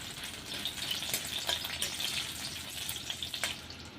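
Oil sizzles and crackles in a pan as red chillies and spices fry, a steady close hiss with small pops, with no voices.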